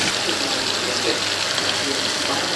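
A steady pour of water runs into simmering beef achari karahi gravy, a continuous hissing gush held at an even level for the whole stretch.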